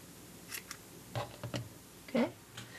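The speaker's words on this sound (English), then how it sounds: "you can cut your strands a little shorter" Scissors snip crochet yarn strands while finishing a baby bonnet, giving a few quiet, close, separate cuts spread out with short pauses between them.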